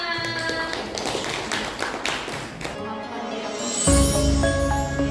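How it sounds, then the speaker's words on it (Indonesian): A Javanese-language class claps hands together on a teacher's cue, a few seconds of busy close clapping with taps and thuds mixed in, then fading as sustained tonal sounds take over near the end. "tepuk tangan."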